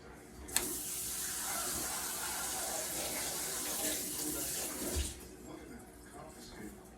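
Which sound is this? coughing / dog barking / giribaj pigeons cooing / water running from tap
water running from tap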